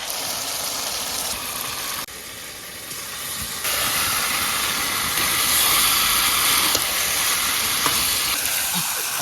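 Meat dropped into hot oil with spices, sizzling and hissing steadily and loudly throughout, the frying growing a bit louder partway through, no talking.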